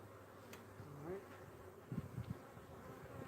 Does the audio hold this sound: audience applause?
no